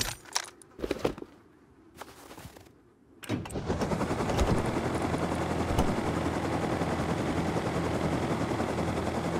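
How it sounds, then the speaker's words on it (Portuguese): A helicopter in the Rust video game roars in after a few sharp bangs and clatters, its steady rotor and engine drone holding loud and constant for several seconds. "Helicóptero pra gente de graça."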